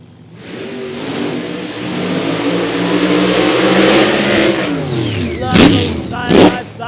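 Funny car drag racing engines at Eddyville Raceway Park fire up and rev, a loud swelling roar that builds and holds, then two sharp throttle blips near the end, with a commentator talking over it.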